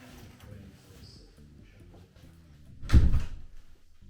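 A heavy, newly hung wooden door in a renovated building swings and shuts with one solid thud, near and loud, after a stretch of faint background music.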